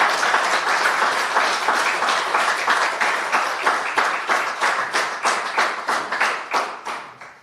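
Audience applause at a speech honouring a jailed Armenian official, a steady crowd clapping that turns into loud rhythmic unison beats and gradually fades toward the end.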